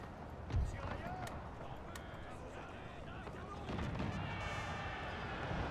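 Artillery cannons fire in a Napoleonic-era battle in the Napoleon video game, with a few deep booming blasts over a steady rumble of marching troops and battlefield noise.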